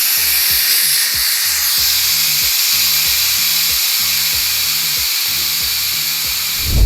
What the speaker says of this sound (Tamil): ஸோ இப்போ வந்து ப்ரெஷர் வந்து ரிலீஸ் பண்ணிடலாம்